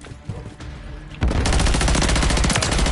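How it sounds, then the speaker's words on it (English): Defensive mortar strike in Call of Duty, building into a loud, near barrage of rapid overlapping blasts and booms that rolls on without pause. "Defensive mortar strike inbound."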